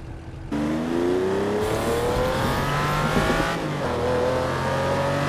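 A car engine revs hard and accelerates, its pitch climbing steadily through the gears, loud and close and continuous for several seconds with no talking, in a zombie-movie chase scene.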